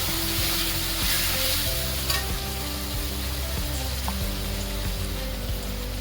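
Black chickpeas frying with turmeric, red chili powder and other spices in a hot pan, a steady close sizzle with stirring scrapes running throughout, no talk.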